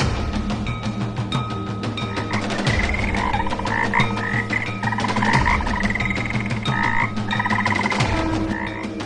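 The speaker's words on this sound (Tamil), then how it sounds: "சுனையில் நிறைய தேரை குஞ்சு உள்ளது" Toads croaking in a spring pond, a dense chorus of repeated, close croaks and trills that overlap and carry on throughout.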